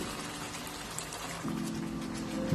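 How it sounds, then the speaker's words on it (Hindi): About a cup of water is poured into a pot of beef karahi cooked with masala. It makes a soft continuous splashing hiss that thickens into a fuller gush partway through, with no talking. "1 कप मैंने पानी ऐड किया इसमें"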